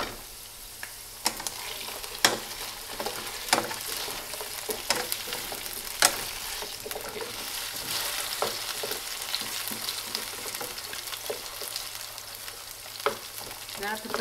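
Peeled tomatoes cook in a pan with potatoes, giving a steady close sizzle broken by scattered clicks and scrapes of stirring, with no talking.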